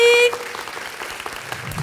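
Theatre audience at a Christmas concert applauds a string quartet, a brief bright tone giving way to a dense, steady patter of many hands clapping at moderate volume.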